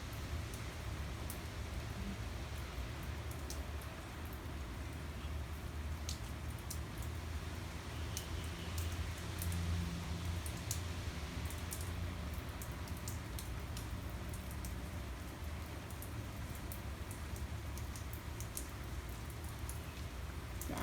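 Steady morning rain falls under overcast skies, a continuous dense hiss of drops with scattered sharper patter on surfaces, even and close throughout with no voices.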